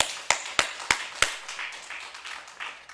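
A church congregation at a Korean revival service gives a few sharp, separate claps, then a softer, scattered patter fades out.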